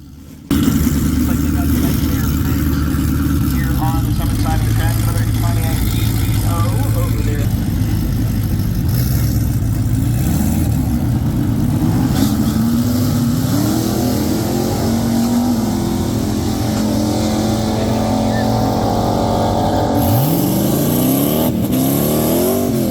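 A turbocharged LS-powered car revs hard during a soft track-day burnout, its loud engine droning steadily with rising and falling pitch sweeps, close and continuous throughout.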